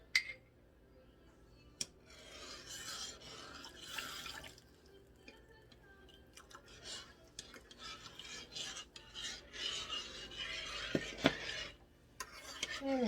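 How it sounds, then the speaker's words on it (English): A spoon stirs a tangy pork tenderloin glaze thickened with cornstarch in a pot, producing soft scraping and clinking strokes with small wet bubbling, quiet and close with irregular louder knocks. "we're just going to keep stirring this as it cooks until it thickens nicely"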